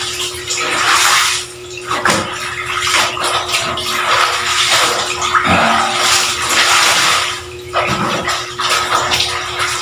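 Water sloshing and splashing steadily as laundry is rinsed by hand in a basin, a continuous close, fairly loud wash of water with occasional stronger surges.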